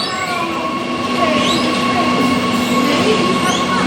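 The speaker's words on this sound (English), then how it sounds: "Oh, there's a train." A Gautrain passenger train arriving at a station rumbles steadily nearby with faint metallic squeals and wheel noise, a continuous loud rail sound with no speech.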